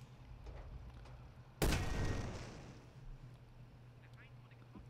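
A tank gun fires once in a wargame video game, a sudden loud boom that decays over about a second over a low steady hum, with a faint voice around it.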